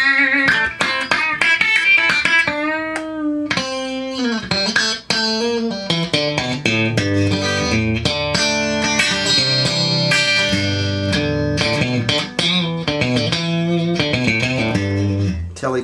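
An electric guitar runs through a Zoom G5 multi-effects pedal into a solid-state Crate amp, playing a loud, continuous run of distorted notes and chords for the whole stretch.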